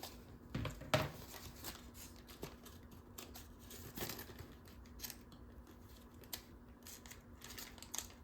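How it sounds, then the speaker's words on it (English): Quiet, close snips of small scissors cutting paper, a few distinct cuts followed by soft rustling, with a faint steady hum behind. "I'm using this tiny scissors because it's about the same size as a craft knife."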